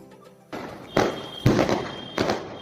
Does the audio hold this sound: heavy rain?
no